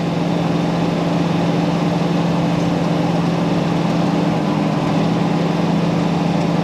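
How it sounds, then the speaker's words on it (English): Car engine running steadily after a Boostane fuel additive treatment, a constant close drone with a low hum and no changes in revs, no talking over it. "I hope the microphone can pick up the engine sound."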